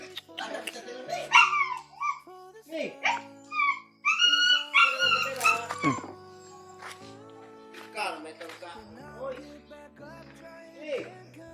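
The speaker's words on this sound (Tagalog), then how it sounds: "Ito yung mga alagang aso natin." Dogs whimper, yip and whine repeatedly, close by, with a voice mixed in among the animal sounds.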